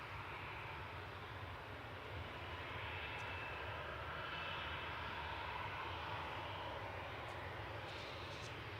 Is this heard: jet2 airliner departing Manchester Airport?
yes